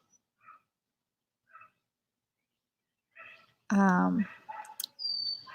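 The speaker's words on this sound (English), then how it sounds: "I'm glad you like the birds in the background." Birds chirp in the background as a few short, faint tweets. Then a dog gives a sharp whimpering yelp, followed by more bird calls and a high whistle-like tone.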